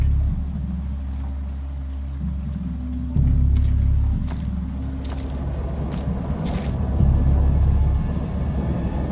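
Steady heavy rain with low rumbling thunder rolling underneath, swelling louder at a couple of points, continuous and close throughout.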